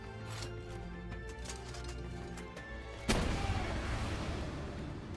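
A loud gunshot blast from a video game's Gobfins weapon, a one-shot hit on a Blazamut, bursts in sharply after a stretch of busy game noise and rings out with a noisy tail.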